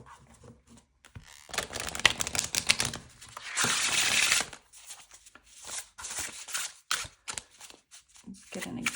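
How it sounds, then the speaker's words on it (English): An oracle deck of fairytale-themed cards is shuffled by hand in quick riffling bursts, close and crisp, with short pauses between rounds. "So I'm going to shuffle this up and see if we can pull, you know, maybe one card"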